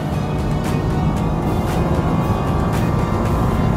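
A Nissan Juke R on a race track, its engine roaring loudly and continuously under throttle as it builds speed through a corner in third gear, heard from inside with no talk.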